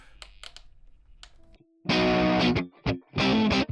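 Electric guitar through a Tonex One modeling a 1958 Gibson G6 amp on a crunch setting with no reverb: a few thin picked notes and a quiet pause, then loud, bright distorted strummed chords in three close bursts.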